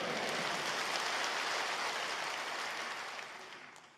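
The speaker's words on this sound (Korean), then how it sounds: "이거 우리가 박수를 칠 일입니다" A church congregation at a Yoido Full Gospel Church early-morning prayer service claps together, a dense, even patter of many hands heard from within the hall that fades away over its last second.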